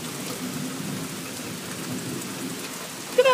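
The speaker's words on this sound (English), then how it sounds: "Wow, this is some heavy rain" Heavy rain pours down during a thunderstorm just outside a porch, a dense, steady hiss of falling water with a brief louder burst near the end.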